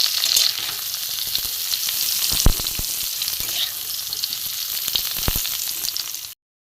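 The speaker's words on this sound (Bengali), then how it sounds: "আমি ফের তেল দিয়ে দিয়েছি গোটা জিরা শুকনো লঙ্কা ফোড়ন দেবো" Whole cumin seeds and dried red chillies tempering in hot oil for a vegetarian cauliflower dish, a steady bright sizzle and crackle with scattered sharp pops, close and continuous until it cuts off.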